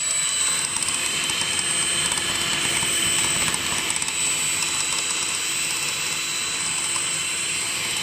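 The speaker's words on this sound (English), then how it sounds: "Now I'm going to use the hand mixer." A hand mixer whipping dalgona coffee, a loud continuous whirring motor with a steady high whine and rattling beaters, running without pause.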